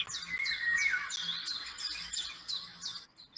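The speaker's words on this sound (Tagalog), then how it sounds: "Mga huni ng ibon din." Several quick, bright bird chirps and twittering calls repeat in short bursts, faint and clear with no talk.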